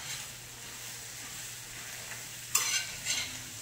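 Egg and bread frying in butter in a pan, a soft steady sizzle near the listener, broken by a couple of brief louder bursts of spatter or scraping toward the end.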